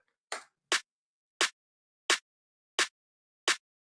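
Six short, dry snare drum hits at an even pace, each cut off quickly by a very low release setting, with no ringing tail, separated by silence.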